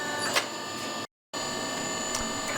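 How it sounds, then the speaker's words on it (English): A forging press sets the first weld on a wrought iron san mai knife blank between big flattening dies, giving a steady, fairly loud mechanical drone that cuts out briefly before resuming. "this will be the kind of first weld set on the press with those big flattening dies"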